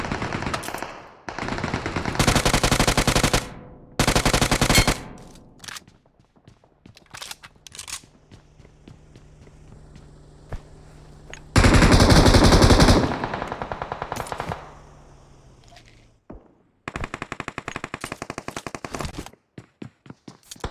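Rapid automatic gunfire in a battle royale video game, long loud bursts broken by gaps, single shots and scattered clicks and footsteps, close and dominant with no talking.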